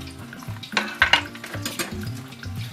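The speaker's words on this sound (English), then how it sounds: "And then mix it well with my fork." A fork mixes tinned sardine with shredded cabbage in a bowl, giving close, repeated soft scrapes and squelchy clicks in an uneven rhythm.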